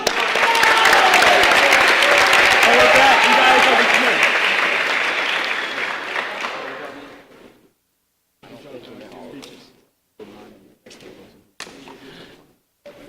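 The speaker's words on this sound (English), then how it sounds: "let's give a big round of applause to everybody up here" Audience applause at an Arkansas Boys State party primary convention, dense clapping for several seconds that tapers off into silence, followed by scattered thumps and a voice speaking.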